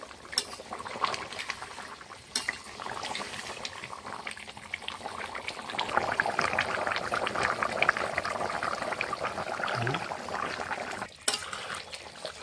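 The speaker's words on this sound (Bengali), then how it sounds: "ঝোলটা ভালোভাবে ফুটে উঠেছে" Mutton curry gravy, with goat fat melted into it, bubbles steadily at a rolling boil in a pot, a continuous close-up gurgle that swells louder midway and carries on alone without talk.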